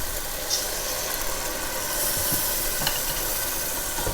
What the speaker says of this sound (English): And now we add the red wine.